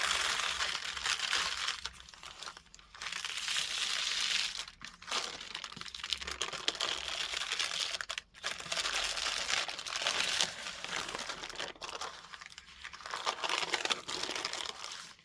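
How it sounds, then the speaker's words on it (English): Handmade napkin paper peeled away from grease-proof wax paper, giving a continuous, close crinkling and soft tearing rustle with brief pauses throughout. "peel your paper off of your grease-proof or wax paper."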